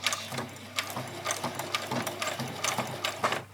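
A sewing machine runs a back stitch on fabric fairy wings, a fast rattling mechanical chatter with irregular clicks, close and continuous throughout.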